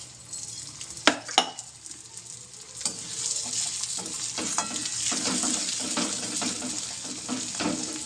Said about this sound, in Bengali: এবার না আমি ডালটা দিয়ে ভালো করে ভেজে নেব ডালটা।